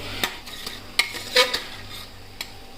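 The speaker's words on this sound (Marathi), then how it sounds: "आता आपण हे बारीक केलेलं डाळ हा हे डाळ टाकणार" Ground lentils (dal) tipped into a pot with a little water and stirred with a metal spoon, giving a few sharp clinks and scrapes against the pot rim over a soft background hum, close by and without speech.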